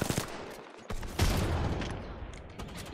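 Gunfire in the shooter game Apex Legends: a cluster of sharp, loud shot bursts, then a denser volley that fades over about three seconds, with no talking.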